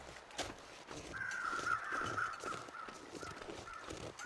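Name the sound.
birds cawing in video game The Long Dark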